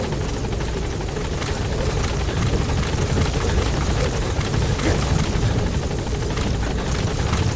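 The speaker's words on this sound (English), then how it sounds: "Support helicopter has arrived." The support helicopter arriving in Metal Gear Solid V gives a steady, loud rotor thrum and whine that holds at close range without a break.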